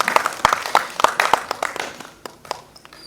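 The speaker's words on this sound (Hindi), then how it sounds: "आप कृपया उनका तालियों से स्वागत करें, अभिनंदन करें।" An audience claps in welcome for a guest at an Independence Day event at a cultural resources centre: a few close, sharp claps in a loose rhythm that thin out over about three seconds, with no talk.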